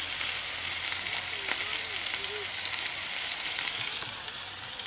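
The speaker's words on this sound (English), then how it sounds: "I'm cooking some meatballs and pasta." Meatballs and pasta cooking in a pan inside a VW campervan, a steady close sizzle and hiss lasting several seconds, with faint background sounds and no clear talk.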